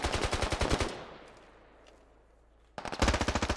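Rapid machine gun bursts in the Project Reality military shooter, loud close rattling volleys at the start, a lull with distant rumble, then another sharp sustained burst resuming near the end.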